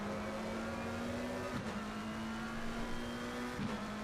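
A race car engine drones at steady high revs on an out lap at Barcelona in a sim racing game, with two brief dips as gears shift, loud and continuous.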